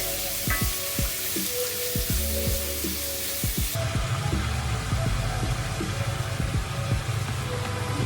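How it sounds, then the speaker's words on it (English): Pork stir-frying in hot sesame oil in a pot, a steady loud sizzle that swells partway through, with spatula scrapes and stirring knocks over it and no talking. "Start stir frying from the meat."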